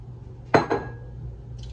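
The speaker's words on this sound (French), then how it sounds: "Je vais seulement mettre mes oignons là-dedans." Chopped onions are dropped into a cooking pot for a Congolese makosso boiled dish, making two quick, close clattering knocks about a fifth of a second apart, followed by quiet room tone.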